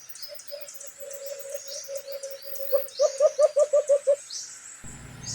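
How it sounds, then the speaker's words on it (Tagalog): A decoy bird used in a hunt for alimokon pigeons gives repeated hooting coos, starting soft and steady, then swelling into a louder rhythmic run of about eight calls, with faint bird chatter and rustling in the background. "Humuhuni siya at kumakampay."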